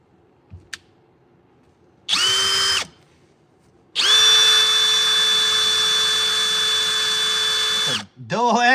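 Power drill with a dull bit whines in a short burst, then runs steadily for several seconds before stopping, close by and loud, with faint background noise between.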